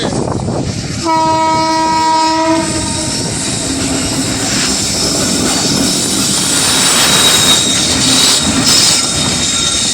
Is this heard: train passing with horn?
yes